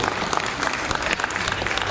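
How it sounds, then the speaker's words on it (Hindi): An audience at an annual day event applauds artists from Mumbai, steady dense clapping from a crowd, loud and continuous throughout with no voices standing out. "एक बार तालियों के साथ अभिवादन।"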